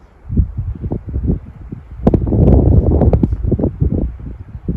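Wind gusts through a forest in low, rumbling buffets against the microphone, swelling to a stronger rush midway with faint rustling on top, then easing again.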